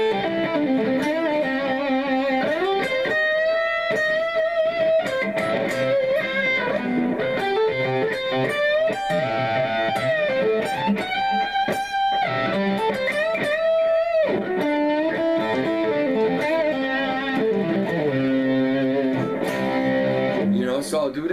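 Electric guitar run through a distortion effect, noodling rock phrases in a minor key with bent, sustained notes; loud, dense and continuous throughout.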